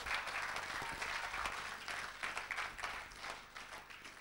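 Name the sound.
audience applauding to acclaim the Lord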